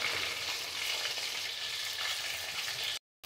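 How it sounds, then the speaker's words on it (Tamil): Fish pieces sizzle steadily in hot frying oil, a dense continuous crackle and hiss close by, with a brief dropout near the end. "அதே மாதிரி மீன் இருக்கிற மீன்கள்லாம் அதே மாதிரி பொரிச்சு எடுத்துக்கோங்க."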